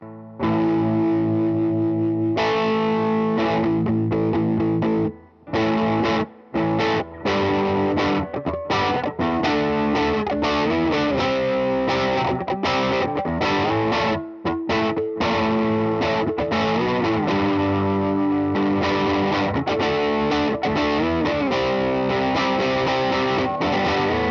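A 2002 Gibson SG Special Faded electric guitar played through overdrive on the neck pickup with both tone knobs fully open, sustained distorted chords and riffs ringing loud and close with brief pauses between phrases.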